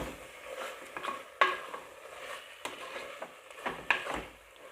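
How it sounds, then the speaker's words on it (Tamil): Goat head meat is sautéed with rock salt in a pan with soft repeated stirring scrapes and faint sizzling, plus a few sharp clinks of the spoon on the pan, close and moderately quiet with no speech. "இதையும் சேர்த்து நல்லா வதக்கி விட்டுக்குவோம் இந்த கறியோடு சேர்த்து."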